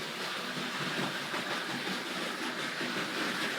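A Tri-ang toy model train runs along its track with a steady, fairly quiet whirring rumble and light rail clatter that continues evenly throughout, with no voices.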